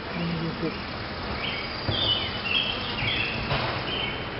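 Honey bees at a hive during an inspection make a continuous dull buzzing hum close by, with a few brief high chirps and faint background voices over it.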